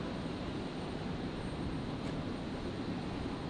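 A Cafe Pacific airliner in oneworld livery arriving from Hong Kong onto runway 01 right at Brisbane Airport, heard as a steady, broad engine roar that holds at an even level throughout with no talk.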